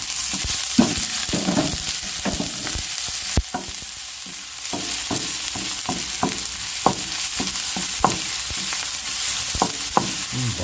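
Ginger, garlic and onion sauté in a hot pan: a constant sizzle broken by repeated scrapes and knocks of stirring, close and loud, with no voices.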